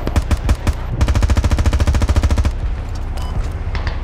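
Bursts of machine gun fire in a video game: a short volley, then a long rapid stream of loud, evenly spaced shots, followed by scattered fainter shots and mechanical clatter.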